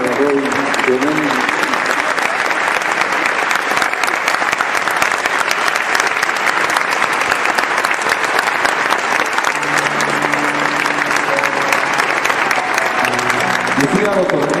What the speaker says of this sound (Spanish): Un aplauso para Robin Leonel